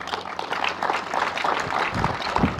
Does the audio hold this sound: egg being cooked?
no